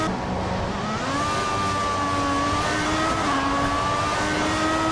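A Formula 1 car engine from the F1 2014 video game screams at high revs on a qualifying lap, a steady whine shifting pitch through gear changes, loud and continuous.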